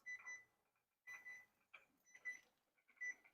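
A kitchen timer goes off while apricot jam is made, sounding four or five short bursts of high electronic beeping separated by brief gaps, fairly quiet and alone.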